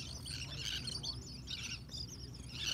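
Birds chirp in bright, repeated bursts through the background of an indoor live knitting and crochet podcast, steady and moderately loud over a low hum.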